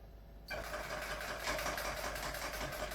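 An electric rug tufting gun starts up and runs at slow speed, a steady close mechanical whir with a faint rhythmic pulse that continues unbroken after a sudden onset.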